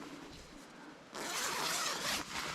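A door zipper on a Pomoly Stovehut 70 heated tent pitched in snow is pulled open: a quiet stretch, then a loud, close, steady rasp for about a second and a half.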